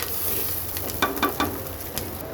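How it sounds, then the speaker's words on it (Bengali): Raw potato pieces frying lightly in a pan with green chillies for a Bengali rohu fish curry, a soft steady sizzle with a few brief stirring clatters near the end, no talk. "চলো একটু আলুটাকে একটু হালকা ভেজে নিই"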